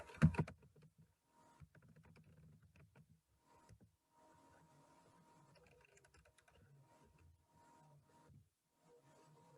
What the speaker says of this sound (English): if I type in Albion